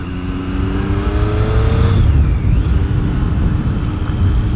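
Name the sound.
2018 Triumph Street Triple R motorcycle exhaust revving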